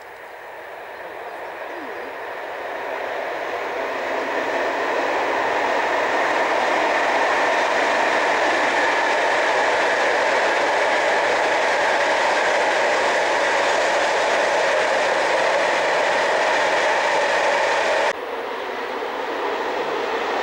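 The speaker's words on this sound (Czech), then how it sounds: "Počkáme na vlak." A freight train rolls past a rural line near Teplice nad Bečvou, a steady loud rumbling swell that builds over a few seconds, holds close for a long stretch, then drops off abruptly, with no talk over it.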